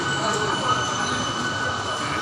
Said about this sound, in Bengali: এখন ট্রেন আসে